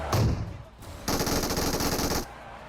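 Rapid automatic gunfire from a P90 or M4 in a mobile battle royale shooter, a long burst of closely spaced shots after a brief opening volley, loud and close with no talk over it.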